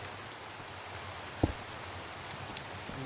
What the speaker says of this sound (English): get rid of that rain